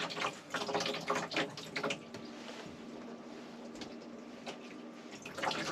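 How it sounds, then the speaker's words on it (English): Tap water running inside a motorhome, a steady faint hiss with splashy bursts and a few clinks near the start, continuing quietly throughout. "See how the water's coming out cleaner now."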